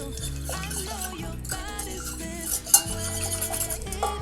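Spoon stirring orange juice and sugar together in a pot, with light scraping and an occasional clink against the metal, under steady background music.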